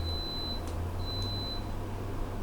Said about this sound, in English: Speak of the beepy beep.